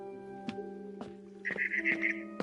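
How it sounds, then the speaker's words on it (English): A barn swallow chirps outside a window in the video game What Remains of Edith Finch, with short bright twittering calls over a faint sustained musical tone. "Then I heard chirping outside my window."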